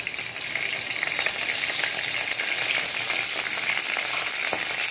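Mustard seeds sizzle in hot oil for a Mangalorean breakfast of chana and sweet potato, a loud, steady, close frying hiss with scattered small pops and no talking.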